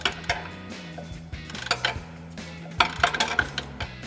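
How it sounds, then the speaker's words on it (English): An 18mm ratcheting wrench turns a nut on a front shock of a RAM 2500 pickup while a 9mm wrench holds the stud, giving quick runs of close, crisp ratchet clicks over a steady low tonal background. "We've got our 18mm ratcheting wrench on our nut."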